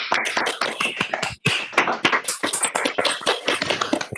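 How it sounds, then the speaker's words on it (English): A round of applause for a panel speaker at a sustainability workshop, many hands clapping in a dense, steady patter with a brief gap partway through, fairly close and loud. "join me in a round of applause for this wonderful speaker and"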